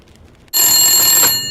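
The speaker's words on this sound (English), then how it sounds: "Ooh, the phones are ringing." A landline telephone in The Long Dark video game starts ringing abruptly after a near-silent moment, a loud, bright electronic bell trill that holds steady.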